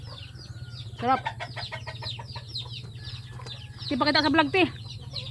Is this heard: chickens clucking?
yes